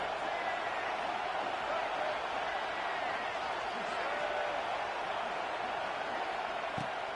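Stadium crowd at a college football game in an NCAA video game makes a steady, fairly distant roar that holds at an even level throughout.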